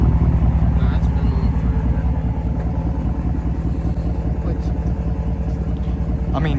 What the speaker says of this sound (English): Listen to that damn exhaust. Sounds like a diesel.